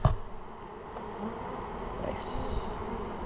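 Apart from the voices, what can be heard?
bees buzzing during a rooftop hive removal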